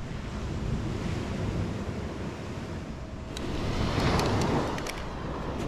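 Ocean surf rolls onto a beach in a steady broad wash of waves, with wind buffeting the microphone and a swell louder toward the end; no talking.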